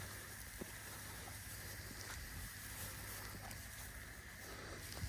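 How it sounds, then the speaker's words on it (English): Rain falling outdoors over a garden potato bed, a faint, steady hiss with scattered soft drops and a low background rumble, with no voices. "It's starting to rain again on me."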